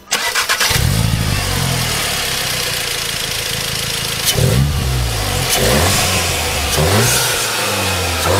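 Volkswagen Golf R 7.5 Performance with a modified intake, its engine started and revved repeatedly, loud close-up throttle blips rising and falling over a rumbling idle, heard alone.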